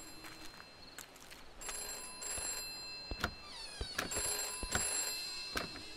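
A telephone rings in the dark horror video game MOR, a faint, repeated electronic ring in steady bursts over quiet background ambience, no talk.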